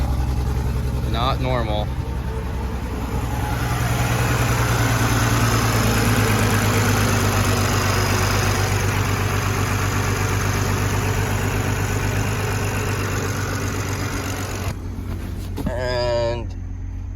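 A C8 Corvette engine starts up and idles: a steady, loud, mid-pitched drone that continues through the clip. A warning chime sounds near the start and again near the end, and someone speaks briefly.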